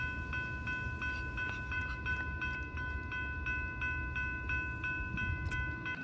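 A freight train rolls by in Rosenberg with a steady low rumble and a sustained high whine of wheels or brakes, continuous and fairly close throughout.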